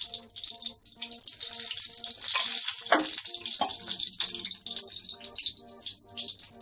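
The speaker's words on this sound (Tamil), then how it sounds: "3 கரண்டி எண்ணெய் ஊற்றிக்கலாம்" Oil poured into a hot vanali (pan) while cooking village-style Vellai Adai: a steady, moderately loud hissing pour runs throughout, with background music underneath.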